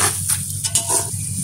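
Mutton karahi frying in oil with garam masala powder, stirred in the pan, gives a steady close sizzle and hiss with a few brief scraping bursts from the stirring.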